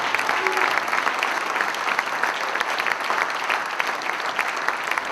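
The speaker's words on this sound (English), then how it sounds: "how about a round of applause for all these guys who talking baseball" Steady applause from a banquet audience at a baseball hot stove dinner, many hands clapping densely and evenly throughout without letting up.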